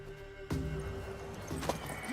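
Horse sounds from The Witcher 3: Wild Hunt game, with a loud impact near the start and a brief rising whinny-like call toward the end over steady in-game ambience.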